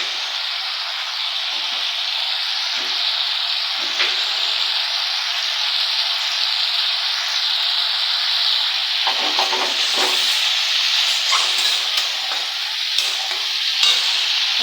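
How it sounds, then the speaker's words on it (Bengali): Steady broadband sizzle of ingredients frying in a pan for khadhi, a yogurt and gram-flour curry, with repeated scraping stirs, close and continuous with no talk. "এইগুলো ঢেলে বারবার আমাকে নাড়তে হবে, না হলে ফেটে যাবে। এগুলো একটু ফ্রাই করে নিই।"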